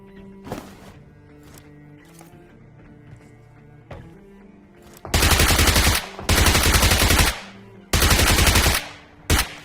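Automatic gunfire in a battle royale video game rings out in several loud sustained bursts, preceded by scattered single shots and softer in-game sounds.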